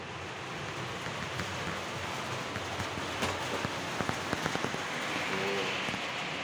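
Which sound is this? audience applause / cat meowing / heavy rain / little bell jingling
heavy rain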